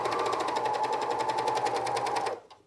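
Sewing machine running steadily over the seam of a camisole, a fast even rapid-fire stitching rhythm close up, stopping abruptly near the end.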